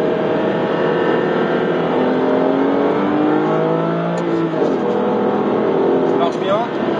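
A 2011 Aston Martin Virage accelerating in sport mode with paddle shifts: a loud, close engine roar whose rising pitch climbs through the gears over several seconds.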